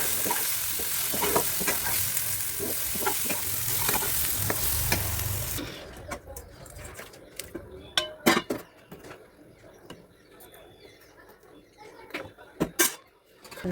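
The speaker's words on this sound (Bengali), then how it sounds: "তাই এখন একটু শিম আর বেগুন দিয়ে মাছের ঝোলটা রান্না করে নিচ্ছি।" Fish curry with flat beans and eggplant cooking in a pan: a loud dense sizzle with stirring scrapes for several seconds, then quieter clatter of utensils, pots and clinks with sharp knocks, close by.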